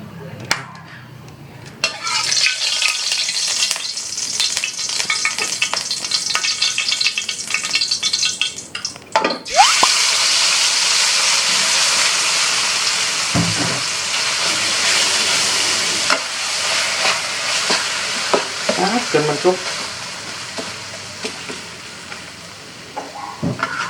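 Young tamarind chili paste stir-fries in a little oil, a loud, dense sizzle with scraping stirs that carries on almost without a break from start to finish.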